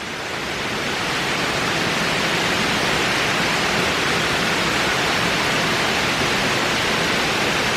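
An intense morning rain shower pours down in a dense, steady roar of broadband hiss, loud and unbroken from start to finish with no voices.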